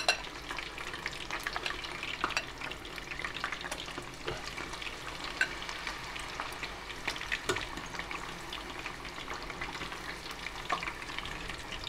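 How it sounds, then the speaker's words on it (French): Tempura batter pieces frying in hot oil for an 'nduja tempura, a steady dense crackling sizzle with scattered sharper pops, close and continuous throughout with no talking. "on ajoute juste sur les choses qui sont en train de frire"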